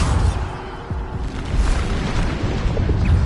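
A Bombarda blasting spell in the Hogwarts video game: a dense, rumbling explosion that rolls on as continuous booming and crackling debris for several seconds, loud and near.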